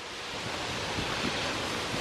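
The fast-flowing Mississippi River rushes in a dense, steady hiss close by, with soft low thumps of churning water under it and no talk.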